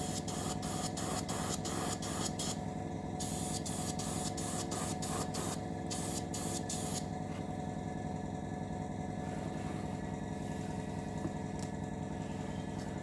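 Spray paint goes onto a model of the aircraft carrier HMS Queen Elizabeth in a rapid series of short hissing bursts, then one longer blast, all over a steady background motor hum.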